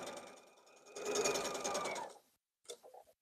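A sewing machine stitches a 1/4 inch seam, a close, steady whirring run of rapid needle strokes that stops abruptly, followed by a brief short burst of stitching.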